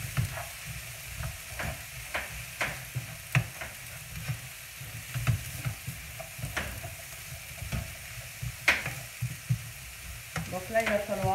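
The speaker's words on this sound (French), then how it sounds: "Donc là, vous faites cuire, voilà, simplement vos légumes." Vegetables for lasagne cook in a pan with a quiet, continuous sizzle, broken by regular scraping and tapping as a utensil stirs them close by.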